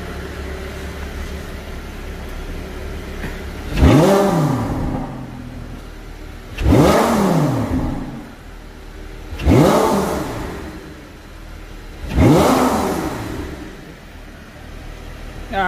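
A Lamborghini LP550-2 fitted with a TopSpeed exhaust revs hard four times from a quiet idle, each throttle blip climbing sharply and falling back, loud and close with no talking.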